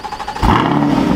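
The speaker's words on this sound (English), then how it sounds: "that V8 roars to life." A 2022 Chevrolet Corvette Stingray 2LT Z51 V8 is remote-started: quiet for a moment, then the engine bursts to life with a loud, deep roar that settles into a strong, steady idle.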